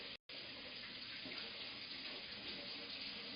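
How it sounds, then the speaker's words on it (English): Water runs steadily from a sink tap while hands are washed with soap, a close, even, continuous splash broken only by a very brief dropout near the start. "I'm right here just washing my hands with a little bit of soap and water."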